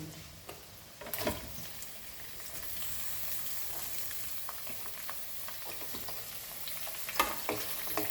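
Onion fries in a pan for a Goan French beans foogath, a steady soft sizzle with a few scraping stirs and clinks, fairly quiet and close, without talk.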